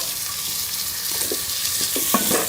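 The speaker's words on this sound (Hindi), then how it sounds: "घी को गरम कर लें। और इसके अंदर ये चॉप की हुई प्याज डाल दें" Chopped onions fry in hot ghee, giving off a steady, close, dense sizzle with a few soft scrapes of stirring. No one speaks.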